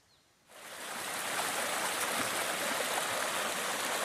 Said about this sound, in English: heading over to the stream, which I can hear from here